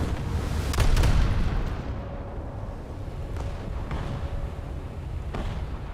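British cruiser naval guns fire in a warship video game, with a loud deep booming salvo early on that fades into a rumbling tail, followed by fainter, sharper distant reports.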